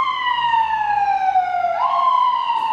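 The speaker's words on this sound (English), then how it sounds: "sorry, there's a siren." An emergency siren wails steadily, its tone sliding slowly down then jumping back up, loud and continuous over a faint low rumble of traffic.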